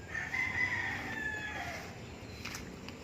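A pet chicken crows while being fed, a loud, drawn-out cock-a-doodle-doo up close in the first half, followed by softer clucks and faint rustling.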